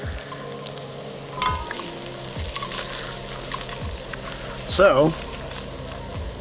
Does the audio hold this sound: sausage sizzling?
yes